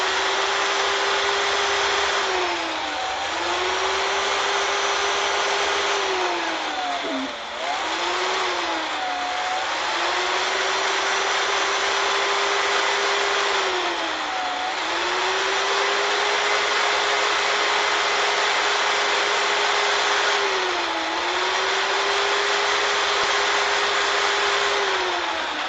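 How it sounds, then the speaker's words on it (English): A power sander whines steadily while smoothing the sawed-off faces of a wooden baby rattle, its motor pitch dipping briefly every few seconds as pressure changes, loud and close with no talking. "I just use my power sander to clean up these"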